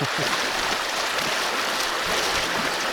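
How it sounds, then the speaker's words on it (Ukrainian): Mountain stream in the Carpathians rushing steadily, a dense continuous hiss and roar of moving water, close and unbroken throughout with no voices. "Вода шумить просто класно."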